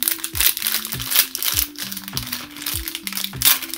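Crinkly plastic wrapping of a Disney Pixar Coco blind bag mystery mini figure torn open, with repeated close, loud rustling and crumpling bursts alongside a rhythmic low thumping in the background.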